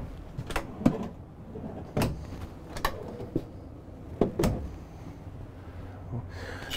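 Drawers in a 2018 Holiday Rambler Navigator motorhome slide open and shut several times, giving sharp knocks and short rolling scrapes with quiet gaps between them.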